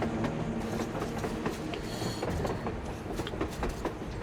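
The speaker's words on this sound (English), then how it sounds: "A train! A damn train on the surface!" A train rumbles past on the surface in Metro Exodus, with rhythmic clickety-clack of wheels over rails, loud and continuous, with no voices.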